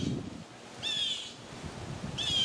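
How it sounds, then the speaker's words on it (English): Two brief, thin bird calls ring out faintly from a tree in a hot backyard garden where a hawk is hiding, with a quiet outdoor hush between them. "All the other birds are yelling and I hear it squawking"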